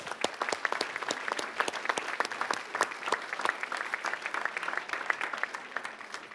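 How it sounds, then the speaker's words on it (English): Modest audience applause at an evening video-game competition event, with distinct individual claps in a sparse, uneven rhythm from a smallish crowd, moderately close. "let's give them a round of applause"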